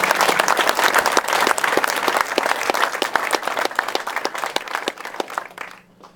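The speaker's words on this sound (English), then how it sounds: "So I want to give them a round of applause." Audience applause at the 2013 launch of the Keller Ferry vessel Sanpoil, a steady crowd clapping with crisp individual claps throughout, tapering off near the end.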